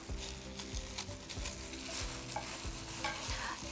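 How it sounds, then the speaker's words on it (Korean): Seasoned seaweed being tossed with sesame seeds and sesame oil in a bowl, producing a close, continuous crackly rustling and sticky stirring with uneven bursts, no talking. "이걸 무칩니다"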